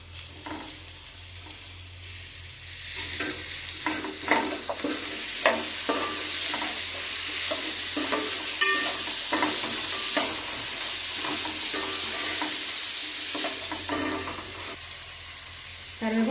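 Potato and tomato pieces with curry leaves fry in hot oil for vegetable pulao, a steady broadband sizzle punctuated by scattered spatula scrapes and stirring clatters, close and continuous with no talking.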